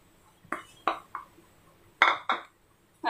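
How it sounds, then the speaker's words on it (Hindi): Several sharp metallic clinks and scrapes of a pot and utensil as roasted vermicelli goes into boiling milk for seviyan kheer, spaced irregularly with quiet gaps between. "तो ये डालते हैं भुंजी हुई सिवैया"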